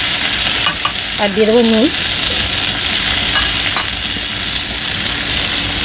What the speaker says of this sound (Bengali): একটু ওই মশলাটা দিয়ে ভেজে নেবো ভালো করে।